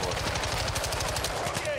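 Rapid automatic gunfire from the video game Call of Duty: Modern Warfare II rattles in a fast, unbroken burst, loud and close, with no pauses through the short stretch.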